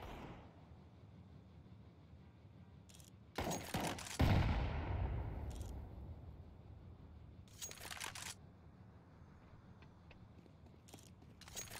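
A decoy grenade in Counter-Strike 2 imitates gunfire, giving two separate bursts of rapid shots, loud and close, against otherwise quiet game ambience.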